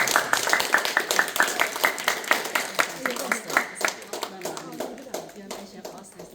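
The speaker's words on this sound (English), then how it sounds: "Can we have another round of applause for the panelists here?" A round of applause for panelists at a college admission panel: many hands clapping together in quick rhythm, loud at first and gradually thinning out.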